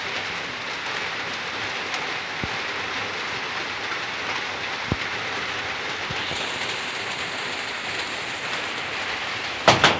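Heavy rain pours down outdoors in a steady, dense hiss with no wind, broken by a few faint isolated clicks and a brief rattle near the end.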